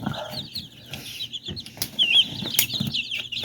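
Young chicks in a brooder flutter and flap their wings as they try to fly out, brief close wingbeats mixed with soft clucks and peeps.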